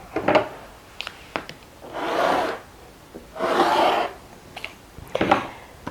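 Layered fabric strips for a table runner are cut with a rotary cutter along a ruler, giving three long rasping passes mixed with light knocks and taps from handling the ruler, close and fairly loud.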